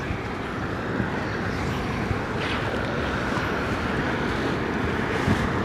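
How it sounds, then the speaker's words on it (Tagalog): Headwind roaring over a fishing boat at sea, a constant rushing buffet of wind against the microphone mixed with low engine and water rumble, with no voices. "Ay, salubong ang hangin."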